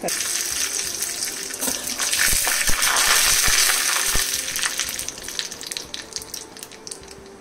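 Mustard seeds, a dried red chili and a little garlic sizzle and crackle in hot oil for an Andhra rasam tempering, a loud, steady frying hiss with scattered sharp pops throughout.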